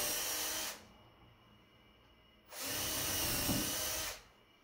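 A power drill bores small holes in a wooden board in two separate bursts, each a loud, steady whine lasting under two seconds, with a short quiet gap between them, close up.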